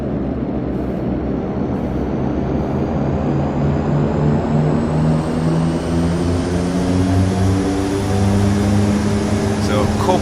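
DHC-6 Twin Otter turboprop in FSX rolling for takeoff, a loud steady propeller drone with rising engine tones throughout.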